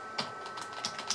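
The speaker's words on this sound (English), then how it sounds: "So let's type" A few keystrokes typing a command on a computer keyboard, sparse light taps close by over a faint steady hum, with no talking.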